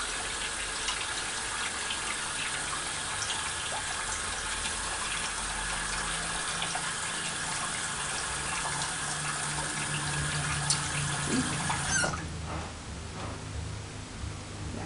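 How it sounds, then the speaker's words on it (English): Water running steadily while being used to wet someone's hair, a continuous close rushing and splashing stream that cuts off near the end, with no talking. "I'm just wetting my hair with some water."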